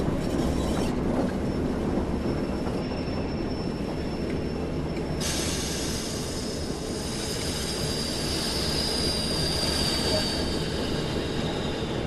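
Train wheels squealing as the brakes go on in a Train Sim World shunting run on the Tees Valley Line steelworks, a steady rumble with a high whine running throughout.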